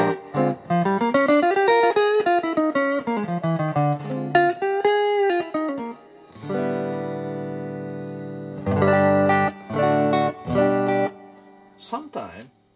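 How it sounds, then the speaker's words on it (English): A distorted electric guitar through a Roland JC-120 Jazz Chorus amp plays a sliding phrase, then sustained heavy chords and short stabs, with brief pauses between bursts. "So if you play distortion"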